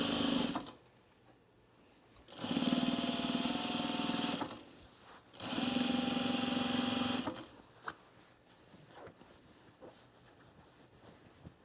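A sewing machine stitches a sewn rug in two loud, steady bursts of rapid mechanical whirring, each a couple of seconds long, with quieter pauses and small handling clicks between them.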